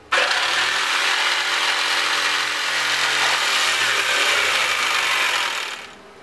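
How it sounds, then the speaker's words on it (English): A power jigsaw cuts through wood for a plectrum case, a steady loud buzzing rasp running continuously for about six seconds before stopping; no one speaks. "Now I'm going to cut it out with a jigsaw."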